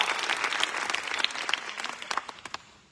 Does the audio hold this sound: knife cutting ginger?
no